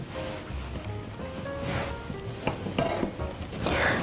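Salted, peppered zucchini slices hiss and sizzle steadily in a hot frying pan, with light scrapes of a utensil against the pan and no talking.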